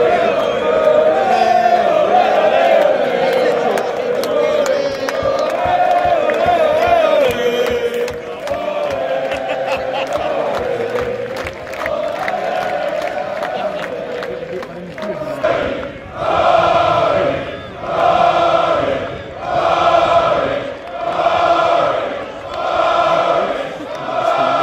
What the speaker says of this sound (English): the Ryder Cup where you've got fans passionately cheering their team on